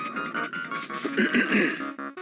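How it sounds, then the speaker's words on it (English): A person clears their throat several times in short, rough bursts, close and fairly quiet. "Sorry if I'm clearing my throat a lot."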